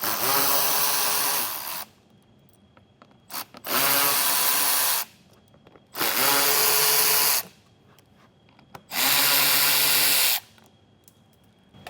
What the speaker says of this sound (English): get some more of these same screws out of this mud flap here